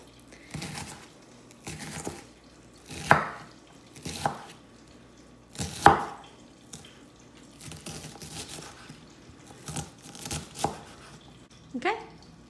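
A knife dicing onion pieces on a cutting board, with irregular thuds and chops, some single and some in quick bursts, close and moderately loud over a quiet kitchen background.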